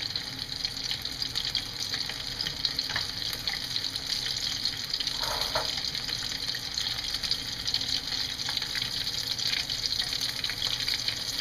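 Onion rings frying in hot oil give a steady, dense sizzle and crackle that runs unbroken throughout, close and fairly loud, with no voices.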